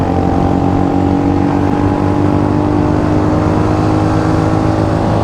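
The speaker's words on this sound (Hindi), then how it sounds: "थर्ड गियर में रेस लग रही है यार" A Hunter 350 motorcycle revving hard in third gear, a loud continuous engine drone with steady throb and rising pitch, heard close from the rider's position with wind rush.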